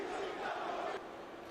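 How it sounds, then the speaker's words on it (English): An angry crowd in an ECW wrestling arena makes a continuous loud roar of many voices blended together, with no single voice standing out. "The crowd angry after that matchup"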